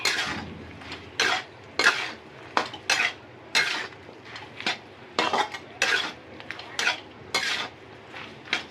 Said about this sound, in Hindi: उसके बाद हम इसको चलाएंगे। चलाएंगे चलाएंगे और चलाएंगे।